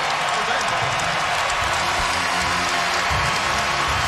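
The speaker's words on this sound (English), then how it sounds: "Just listen to this crowd now." Basketball arena crowd at a Kentucky versus Vanderbilt college game, loud sustained cheering and applause filling the whole stretch, with a commentator's voice faintly mixed in.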